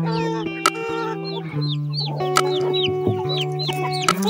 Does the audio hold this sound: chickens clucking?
yes